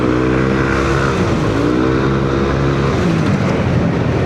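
Yamaha Aerox scooter with an untuned CVT, its engine note climbing and easing off while riding, a continuous close drone with rising and falling pitch and no talking.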